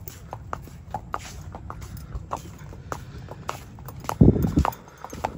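Horses walked along by hand, hooves clip-clopping in a steady, unhurried rhythm at close range, with a louder burst of scuffing and movement partway through.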